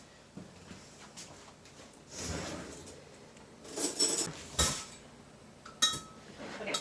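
Fork clinking and scraping against a small container while two eggs are beaten, a few irregular clatters and taps that come in short bursts, close and moderately loud, with no talking.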